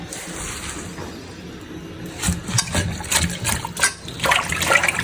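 Water runs and splashes as cut mustard greens are rinsed for saag, starting as a soft trickle and then swelling into louder, uneven splashing and gushing close by.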